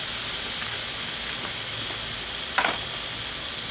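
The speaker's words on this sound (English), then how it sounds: "let's put these babies on" Chicken kabobs sizzle on a Lodge charcoal hibachi grill, a steady loud hiss and crackle throughout with a few brief clinks of skewers being placed.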